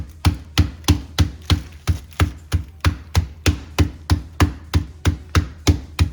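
Chicken meat is pounded on a wooden board in a steady run of about twenty even, sharp thuds, close and loud, evenly spaced with no talking between strikes.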